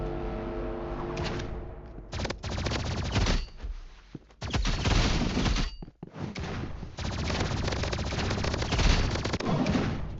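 Rapid energy pistol fire in the Marvel Rivals video game, dense loud bursts of synthetic shots that break off in short pauses and then resume.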